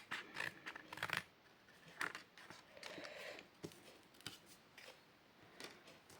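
Scissors snip through paper while preparing an Easter treat with Stampin' Up! craft products, making a string of short, close, crisp cuts with brief pauses between them.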